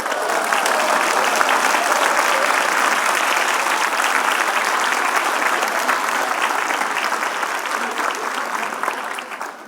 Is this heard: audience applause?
yes